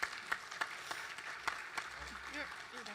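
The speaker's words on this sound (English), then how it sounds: "Let's give these employees just one more round of applause" Sparse, scattered applause for employees at a state public service recognition ceremony, individual claps spaced out and fairly faint, with a few voices murmuring underneath.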